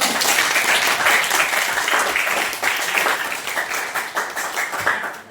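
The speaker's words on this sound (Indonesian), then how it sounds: "kasih tepuk tangan teman buat" Classroom of pupils clapping for a classmate during an Islamic religious studies lesson, a dense burst of close hand claps that tapers off slightly toward the end.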